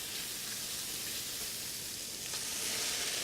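Wieners frying in a pan with onions give a steady, dense sizzle that runs close and loud throughout with no talking.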